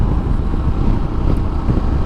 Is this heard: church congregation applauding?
no